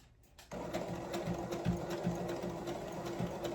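A sewing machine stitches a workwear dress made from upcycled jeans, running in a steady continuous whir after a quiet start, close and fairly loud, with no talking.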